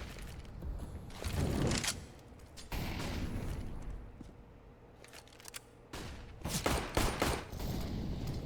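AK rifle fire in a competitive Counter-Strike match, bursts of sharp shots in several loud clusters separated by quieter stretches, no talk over it.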